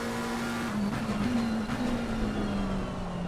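An onboard Lamborghini race car engine during an online race in the Assetto Corsa Competizione video game. Its buzzing note holds steady, then rises and dips slightly as the car works through corners, loud and close.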